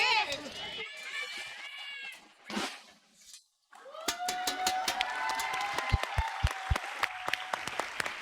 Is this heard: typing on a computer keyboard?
no